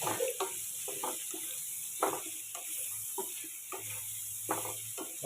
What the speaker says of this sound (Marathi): आता पाच मिनटं तेलामध्ये तळून घ्यायचं